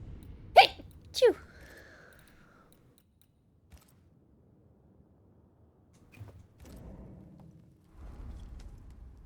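Two sharp, loud sneezes in quick succession land near the start, followed by quiet and then low murmuring talk.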